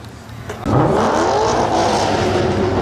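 A car engine kicks in loudly after a quieter start, its pitch rising and swelling as it revs up and holds a strong, steady drone.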